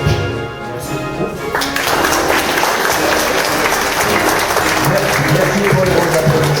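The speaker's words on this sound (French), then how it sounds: "Merci pour les bons applaudissements à Monsieur le Directeur" Dense, loud applause from an audience at an association's general assembly, honoring the director: a sustained wash of many hands clapping that swells in after a brief quieter moment and carries on steadily to the end.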